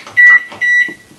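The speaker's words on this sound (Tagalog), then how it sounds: "O microwave na lang." A microwave oven set to reheat leftover chicken and rice gives two loud, close electronic beeps in quick succession, each lasting about a quarter second, with faint household clatter around them and no talking.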